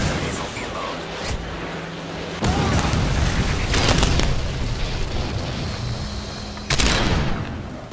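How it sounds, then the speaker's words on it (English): Predator missile strike explosions in Modern Warfare 3, loud booming blasts with bursts of gunfire over a continuous battle din, a sharp burst near the end. "Friendly Predator missile inbound."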